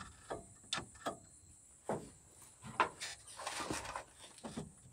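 A seized 1981 Ford F100 351W engine being turned back and forth at the pulley, with a series of irregular metallic clicks and creaking knocks, close and fairly quiet.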